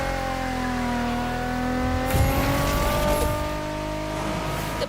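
A BMW Z4 M40i roadster in The Crew Motorfest video game revs with a steadily climbing engine note, then breaks into a gritty, rumbling roar with a brief tire chirp, loud and close.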